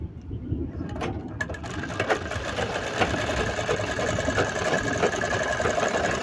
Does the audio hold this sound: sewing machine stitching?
yes